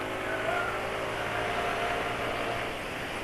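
A Yamaha NMAX scooter with about 3,000 km on it and a badly worn, faulty CVT holds a steady, loud engine drone at high revs, with a constant broadband roar and no voices.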